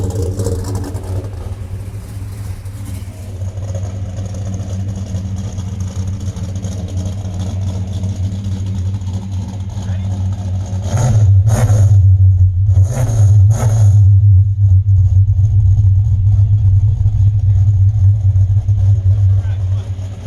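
A 1965 Dodge Coronet 500 idles with a steady low rumble, then revs up sharply around the middle with short blips of throttle before settling into a louder sustained engine drone, heard close.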